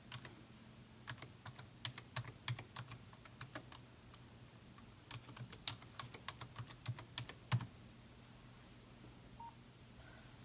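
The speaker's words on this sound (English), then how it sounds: "and then I'm going to type my patient's name in, comparing it to here" Typing on a computer keyboard during a nursing medication check, a quiet run of irregular key clicks in small bursts with brief pauses in between.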